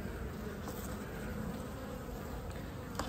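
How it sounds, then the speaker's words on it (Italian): Honeybees buzzing steadily on a honeycomb frame during strawberry-tree bloom in December, a dense continuous hum close by with no voices. "anche il favo accanto ha delle api"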